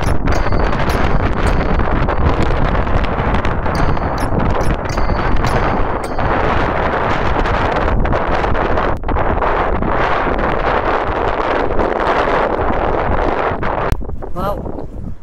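Strong wind roars across an open hillside on Po Toi Island, Hong Kong, battering the microphone in loud continuous gusts and buffeting for the whole stretch.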